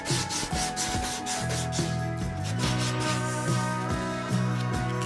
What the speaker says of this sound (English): I'm getting this top sanded, you know, to 80